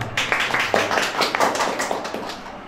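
Audience at a press club opening ceremony clapping, a dense burst of close hand claps that tapers off toward the end.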